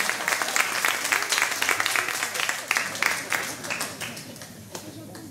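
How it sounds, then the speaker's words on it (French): Concert audience at a tribute show in Capinghem claps together, loud and close at first, with distinct individual claps standing out as it slowly fades toward the end. "Vous pouvez vous applaudir hein,"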